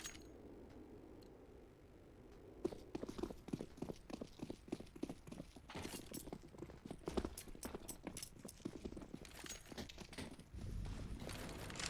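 Footsteps stomping across a Counter-Strike map during a competitive match, a dense run of sharp percussive clicks and thuds from about two seconds on, steady and fairly close over low background game noise.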